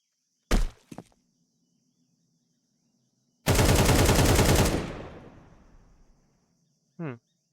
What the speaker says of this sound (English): I'm shooting the floor, basically.